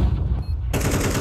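A rapid burst of automatic gunfire in Counter-Strike 2, sharp and dense, breaking out loudly after a brief quieter moment.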